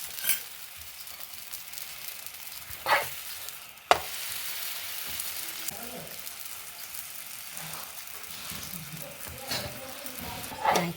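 Chana dal holige roasting in ghee on a dosa griddle gives a steady, close sizzling hiss, with a few sharper crackles and spatula scrapes over a quiet background.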